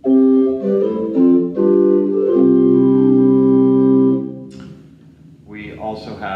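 Church pipe organ at All Saints sounding a wooden gedeckt stopped flute with a 4-foot flute on top, a few soft sustained notes and chords, then a voice starts speaking near the end.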